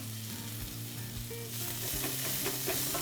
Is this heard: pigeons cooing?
no